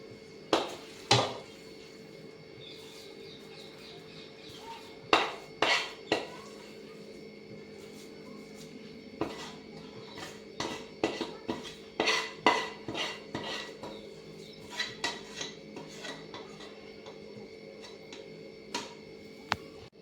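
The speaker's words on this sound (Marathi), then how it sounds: "आता आपण गॅस बंद करूया आणि हा खीस आपण एका बाउलमध्ये काढून घ्यायचा आहे." A metal spoon scrapes and clinks against a pan again and again while cooked grated carrot mixture is scooped into a bowl, irregular bursts of close, bright taps with quiet pauses between them.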